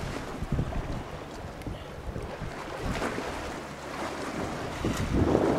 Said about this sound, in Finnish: Tätä mä olen tullut katsomaan, tätä meren loisketta.